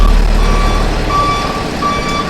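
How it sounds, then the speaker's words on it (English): A truck's backup beeper repeats steady, evenly spaced high tones over a low engine rumble. "but you can hear the backup beeper."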